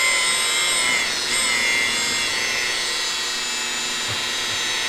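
A rotary polisher spins at about 1300 RPM, buffing scratches out of car paint with a cutting compound. It gives a steady, close whirring whine with a faint hiss that holds even and continuous throughout, with no voices.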